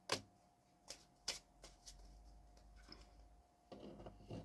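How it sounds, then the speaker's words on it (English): Quiet card shuffling: a few sharp riffling snaps spaced apart, then a softer burst of shuffling at the end. "Apparently, I have to shuffle again."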